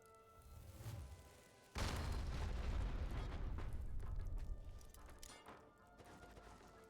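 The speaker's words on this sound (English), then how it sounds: "and now we'll detonate it" A video game explosion blows open a lock: a loud, sudden boom that bursts in and rumbles on for several seconds before fading.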